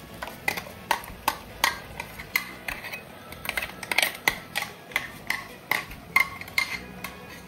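Squid ambot tik is stirred in a pan, a utensil clinking and scraping against the metal in a steady, repeated rhythm of sharp knocks, close and clear with no talking.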